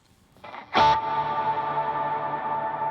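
Guitar through a GFI Systems Skylar reverb pedal on its shimmer setting: a single sharp strummed stab blooms into a long, dark, shimmering wash that sustains evenly to the end, with no talk.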